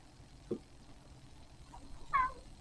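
A single soft cat meow rises briefly over a quiet background, preceded by a faint short chirp-like sound.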